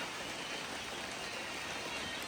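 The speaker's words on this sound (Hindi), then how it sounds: "झमाझम बारिश स्टार्ट हो गई है" Heavy monsoon rain pours down in a steady, dense hiss with no letup, close and loud, with no voices.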